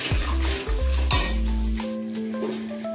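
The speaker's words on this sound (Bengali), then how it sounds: "কুচিয়ে রাখা পেঁয়াজগুলো দিয়ে দিলাম।" Chopped onions hit hot oil with spices and pepper powder for a chicken curry: a loud, steady sizzle with a spoon stirring and scraping against the pan, close up and without voices.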